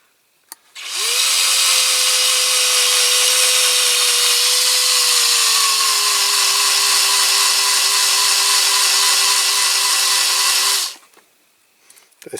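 A cordless drill with a flat battery bores into a Dinky Toys AEC Transporter die-cast model in one long, loud, close run of about ten seconds, its whine slowly dropping in pitch as the motor weakens.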